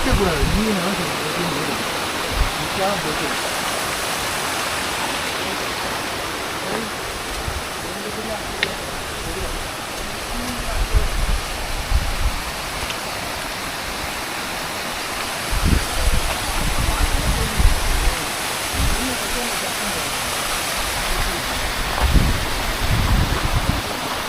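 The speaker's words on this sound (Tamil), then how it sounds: "அடுத்த வாட்டர் ஃபால்ஸுங்க" Steady broadband rush of a waterfall along the Agasthiyamalai trail, a continuous wash of falling water with occasional low thumps and rustles nearby, and brief muffled voices of trekkers at times.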